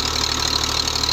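A Romanian-made Farmer 533 tractor engine runs steadily nearby, a rhythmic, knocking diesel idle with a low, even chugging pulse and no talk over it.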